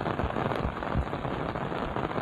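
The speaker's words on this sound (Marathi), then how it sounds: "फायनली पाऊस पडायला लागलेला आहे" Heavy monsoon rain pours in Dahanu, Palghar, as a loud, steady, close roar of drops hitting surfaces, unbroken and with no voices.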